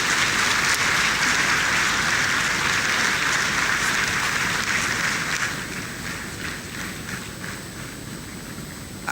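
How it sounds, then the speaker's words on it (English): Audience at the 2025 National Economic Dialogue in Accra applauding in a dense, sustained wash of clapping that stays loud at first and then eases somewhat after midway, with no voices over it. "I guess the spontaneity of the applause shows the quality of the work."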